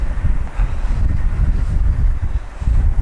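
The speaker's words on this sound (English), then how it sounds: "it's really windy up here" Strong gusty wind on a hilltop buffets the microphone with loud, low rumbling blasts that surge and ease unevenly, with no speech.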